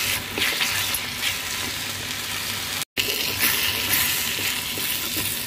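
Tomato gojju simmers on a low flame, a steady close bubbling and sizzling hiss that runs continuously apart from a brief cut near the middle.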